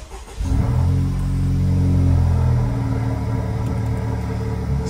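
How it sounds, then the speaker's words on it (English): A 2016 Honda Civic Type R fitted with a Miltech exhaust fires up from cold, a sudden loud roar settling into a deep, steady, rumbling idle close to the microphone. "Cold start sounds very mean indeed."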